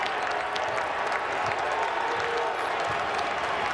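Basketball arena crowd of about 2,000 fans at the KFC Yum Center in Louisville applauding and cheering after a slam dunk, a steady dense roar of clapping and voices throughout.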